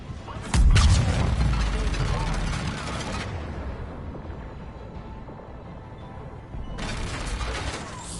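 A heavy booming blast of cannon fire in Mass Effect: Legendary Edition, with a deep rumble that fades into a lingering roar, then a second surge of noise.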